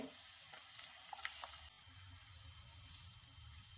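Snacks frying in a pan as they are flipped: a soft, steady sizzle runs throughout, with a few light scrapes and clicks as pieces are turned early on.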